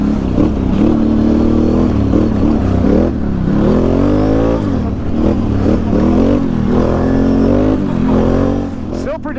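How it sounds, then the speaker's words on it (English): A Can-Am Renegade 1000 ATV's V-twin engine revs steadily and loudly up close on a trail, its pitch rising and falling through several throttle swells, with a rider talking over it throughout. "The V-twin sounds awesome."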